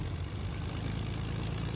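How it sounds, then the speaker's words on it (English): A video game airplane's propeller engine drones steadily and evenly throughout, a continuous low hum with no talk over it. "There's an invisible airplane!"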